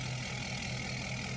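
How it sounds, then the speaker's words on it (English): A truck motor idling in a racing video game, a steady low droning hum with a constant mid-pitched whine, even and unbroken for the short span, no voices. "I turned on a motor and I didn't mean to"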